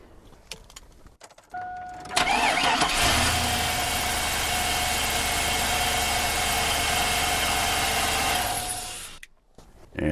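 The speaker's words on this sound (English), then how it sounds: "So all we have to do is go in and start the vehicle." A car engine is cranked and fires up using a SPANARCI Zeta 2000 jump starter, settling into a loud, steady running drone for several seconds before it cuts away.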